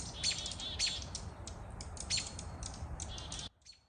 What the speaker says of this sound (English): When a predator is discovered, the birds start to emit alarm calls and fly at the predator